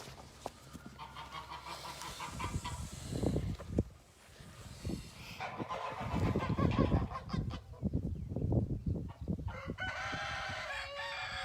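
Geese honk repeatedly on a farm in loud, overlapping bursts, joined by clucking and a rooster-like crow, close by with a steady background hum.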